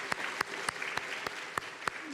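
A church congregation at a Sunday afternoon service applauds its retiring elders with a sparse, steady round of clapping, individual claps landing at an even rhythm and heard fairly close with no talk over them.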